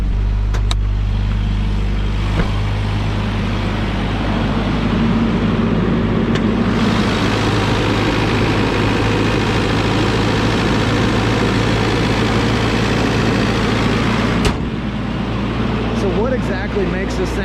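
A Toyota engine started through a clutch bypass switch in a winter storm settles into a loud, steady idle with a deep rumbling drone, heard up close, and a brief break near the end.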